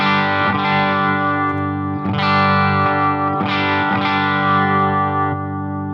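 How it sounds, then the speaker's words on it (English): An electric guitar through a Line 6 Helix with overdrive clipping, a series of loud crunchy strummed chords struck about once per second and left to ring, with no voices. "I'm going to have this on the overdrive for a little bit just to check out the gain range"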